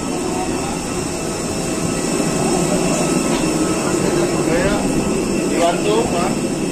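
Steady jet engine roar fills a passenger airliner cabin during boarding for a Jakarta to Medan flight, a continuous loud broadband drone with people talking over it.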